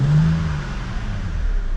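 BMW Z4 3.0Si with its naturally aspirated three-litre straight-six petrol engine, a brief loud rev that rises then settles back to a low idle hum.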